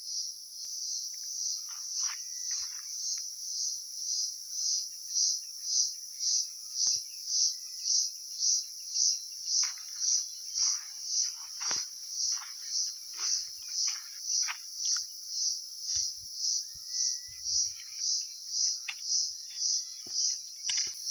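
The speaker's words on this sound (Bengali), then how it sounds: "চারিদিকে কি সুন্দর ঝিঝি পোকা ডাকছে।" Crickets chirp in a continuous pulsing trill outdoors, loud and rhythmic, with faint scattered bird calls and soft rustles beneath.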